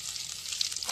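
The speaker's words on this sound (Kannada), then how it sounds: "ಬೆಳ್ಳುಳ್ಳಿ ಒಂಚೂರು ಫ್ರೈ ಆಗೋಡು" Garlic frying in oil in a new pan for an outdoor village-style chicken chilli, giving a steady close, bright sizzling hiss with small crackling pops throughout.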